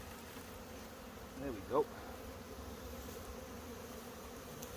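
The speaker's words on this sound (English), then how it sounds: "There's a couple of bees you can see." A swarm of honey bees hums in a low, faint, continuous buzz close by, and a voice speaks briefly about midway.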